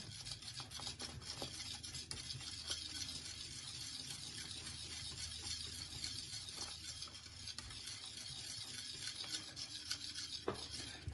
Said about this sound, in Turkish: Şöyle güzelce çırpacağım